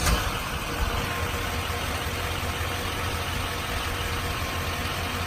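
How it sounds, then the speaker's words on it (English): A Duramax diesel engine in a 2008 Chevrolet 4500 bucket truck idles with a steady, even broadband rumble, close and continuous, with no speech over it. "So I'm gonna have Chris go ahead and start up the engine now."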